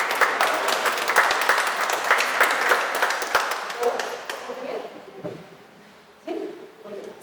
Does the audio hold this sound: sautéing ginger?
no